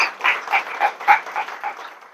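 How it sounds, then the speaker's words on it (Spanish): Conference audience clapping, a dense patter of many hands at moderate loudness, pulsing slightly and tapering off over a couple of seconds, with no voices on top. "No aplaudir més."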